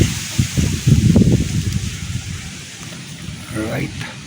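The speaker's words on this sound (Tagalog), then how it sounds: "Sobra, nadidinig nyo naman siguro ang hangin." Strong wind gusts outdoors in steady, rushing blasts that swell louder in the first second and a half, then settle into a lower roar while people talk nearby.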